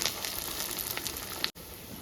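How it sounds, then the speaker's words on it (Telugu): Tempering spices sizzle in hot oil for a Telugu eggplant and dried fish curry, a steady close crackle broken by one brief cutout. "తాలింపు బాగా ఫ్రై అయిందండి"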